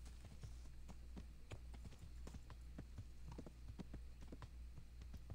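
In Kingdom Come: Deliverance, a horse's hooves clip-clop along a road in a steady walking rhythm of crisp, evenly spaced hoofbeats over a low background hum, fairly quiet and a little distant.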